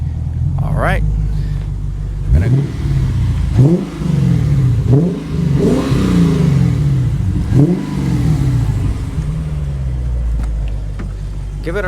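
Lexus GSF V8 with a newly installed aftermarket exhaust revving in several loud rising blips that fall back to a deep rumbling idle, heard close with people talking over it.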